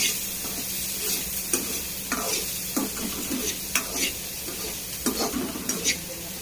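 Vegetables and onion sautéing in a pan for noodles, a constant sizzle broken by repeated scraping stirs of a spatula at an irregular rhythm, close up.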